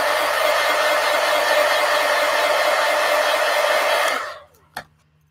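A hair dryer blows steadily and loudly on artwork for about four seconds, then powers down and winds off, followed by a single faint click.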